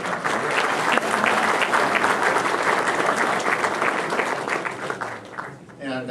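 A crowd at an event at OMSI claps for Steve and the Executive Council in a loud, dense round of applause that fades near the end, overlapping with a voice.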